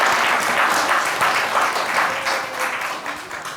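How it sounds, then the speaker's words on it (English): An audience applauds in a hall, a dense and fairly loud wash of many hands clapping that fades gradually over several seconds. "I've never gotten an applause for that story before."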